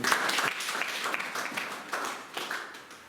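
A church congregation applauds during a French-language service, steady dense clapping throughout with a few louder swells, no voices standing out.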